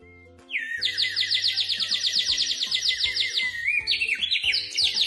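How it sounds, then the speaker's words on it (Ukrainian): A bird whistle toy trills in a rapid warbling run, bright and close, with a few sliding pitch changes toward the end. "це теж музичний інструмент, свистунець. І грає він ось так."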